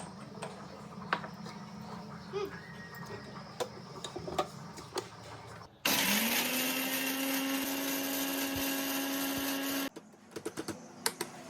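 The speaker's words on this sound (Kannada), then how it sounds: "ಮಿಕ್ಸಿಯಲ್ಲಿ ಹಾಕಿ ರುಬ್ಬಬೇಕು" A mixer grinder runs for about four seconds, a loud steady whir grinding chilli for chutney powder, between stretches of quieter tapping and clicking from the kitchen.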